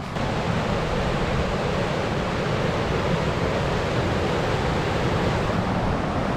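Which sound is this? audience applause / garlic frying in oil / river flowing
river flowing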